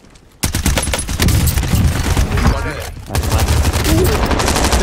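Rapid automatic gunfire in the video game Warzone Plunder mode, loud, dense and nearly continuous bursts after a brief quiet start, with a short lull near the middle before firing resumes.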